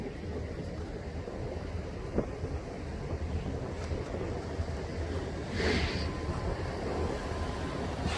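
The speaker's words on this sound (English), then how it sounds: "It is windy and rainy." Steady wind roars and buffets the microphone outdoors, a constant low rumble with a brief gust swelling midway; no voices.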